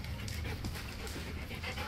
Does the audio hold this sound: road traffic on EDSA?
no